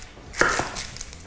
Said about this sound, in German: dann kann ich schon mal schneiden